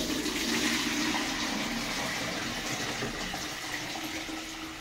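Water with chopped tomatoes, onion and vegetables being poured through a filter at home, a steady soft gushing and trickling flow throughout.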